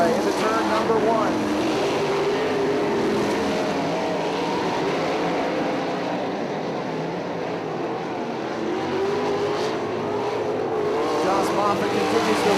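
Nonwing 410 sprint cars race around Lawrenceburg Speedway, a loud, continuous engine roar rising and falling as cars pass, while an announcer calls the action over it.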